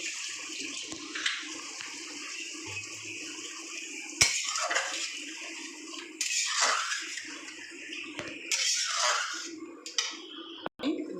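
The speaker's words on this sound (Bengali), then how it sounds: "একটু জল দিয়ে দেবো।" Water poured into a cooking pan for a mustard egg and prawn malai curry: a gushing, splashing pour that swells in several bursts, with occasional clinks of the pan and utensils, close by. No voices.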